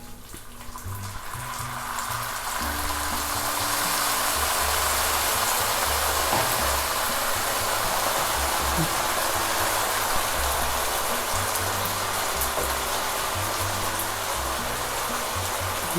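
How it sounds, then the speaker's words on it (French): Broth poured into a pan of Spanish rice over heated oil, a steady loud rushing splash and sizzle that fills the whole stretch without a break. "Et on va ajouter le bouillon."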